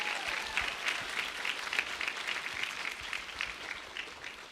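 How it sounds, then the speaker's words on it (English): An audience applauds the young contestants at the close of the 4 to 6-year-old division of a Cherokee Little Ambassador competition, with steady, moderately distant clapping filling the room without a break. "Can we please give all of our contestants a round of applause?"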